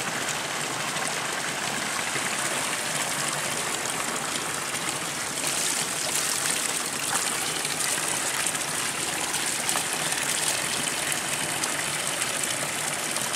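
Cold spring water pours steadily from the spouts of the Pura Beji temple bathing pool at the foot of Mount Raung, a continuous close, loud gushing and splashing with no voices.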